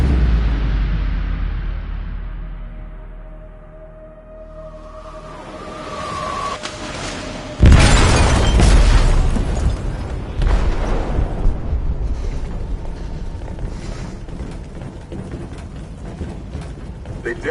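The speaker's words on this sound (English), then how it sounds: "They detonated an explosive in the hold." An explosive detonating in a ship's hold in Detroit: Become Human hits as one sudden loud boom, then a long rumbling roar with metallic creaks and debris clatter, after an earlier low rumble.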